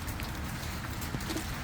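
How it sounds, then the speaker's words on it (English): Heavy rain falls outdoors on a wet day before a drive in a truck, forming a steady, dense hiss that stays constant throughout with no pauses and no talking. "And of course, it's got to be raining today."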